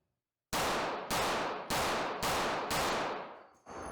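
Five sharp, close gunshots from a P365 X Macro pistol ring out at an even pace about half a second apart, each with a short ringing decay, followed by a softer mechanical clack.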